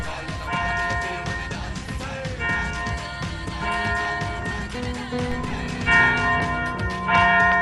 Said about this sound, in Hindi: फिर चर्च की घंटी कौन बजा रहा है?